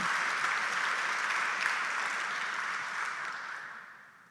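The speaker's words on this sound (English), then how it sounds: "If we could please give them a big round of applause." Audience applause at a senior citizens hall of fame induction ceremony, a dense steady wash of many hands clapping that fades gradually toward the end.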